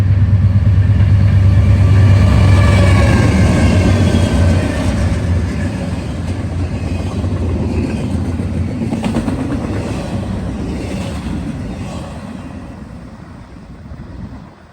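An eastbound Norfolk Southern intermodal freight train rolls past close by, its heavy low engine rumble strongest at first, then a steady rush of wheels and railcars that slowly fades near the end.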